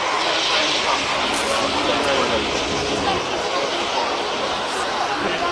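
An aircraft backtracks the runway at the Farnborough airshow, a steady, loud engine roar and broad rushing noise filling the scene, with crowd chatter mixed underneath.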